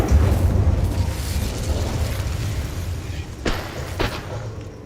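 An Incendio fire spell cast in Hogwarts Legacy, a loud continuous flaming roar with two brief whooshing bursts toward the end.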